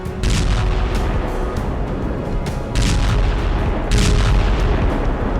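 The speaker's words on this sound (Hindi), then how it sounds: "एक रॉकेट आकर यूक्रेन के ठिकाने पर गिरता है, एक बड़ा धमाका होता है" Heavy TOS-1A rocket strikes on a Ukrainian position in wartime, heard as loud, rumbling booms that swell in three surges with broadband blasts and a continuous roar between them.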